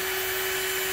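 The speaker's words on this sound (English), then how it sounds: "Now I'm gonna drill some holes." A steady, high whine of an electric drill with a 5/32 bit drilling small holes in a bucket runs continuously through a short, constant burst.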